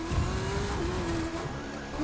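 A car in The Crew 2 drifts on the handbrake with a sustained tire squeal over a loud engine drone, one continuous skid of about two seconds.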